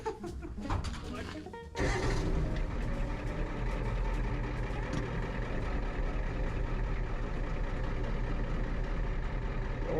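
An old Ford bumpside diesel pickup drives down a rough road, its low engine drone and cab rumble steady and close from inside, with people talking over it.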